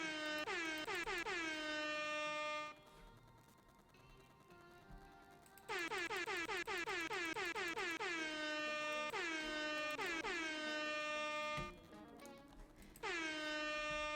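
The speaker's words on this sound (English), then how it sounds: "So what's the point of the air horn?" A loud, blaring video game air horn sounds in long harmonic blasts, three bursts separated by short quieter pauses, close and dominant.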